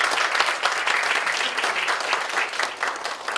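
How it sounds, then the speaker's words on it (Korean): A church congregation at a Sunday worship service applauds visitors: dense, steady clapping from many hands throughout, fairly loud and sustained. "우리 교회 이렇게 방문하신 분들 우리 환영하면서 박수 한번 하시죠"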